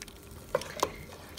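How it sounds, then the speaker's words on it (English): A spoon stirs vinegar and nutritional yeast into a pan of mushrooms and peas, giving two soft scraping clinks against a faint sizzle, close and quiet, with no talk. "And we're going to give that a stir."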